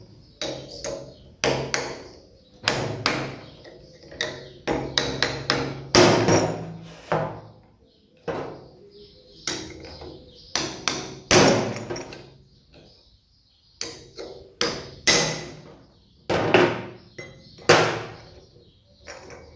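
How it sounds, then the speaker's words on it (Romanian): Hammer blows on a steel chisel while a buggy part is being taken apart, sharp metallic strikes landing close in irregular bursts with short pauses between runs of hits, no voices. "Să încerc cu dalta."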